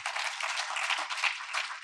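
Audience applause at a corporate advertising awards ceremony, a dense steady patter of many hands clapping, moderately loud and continuous throughout.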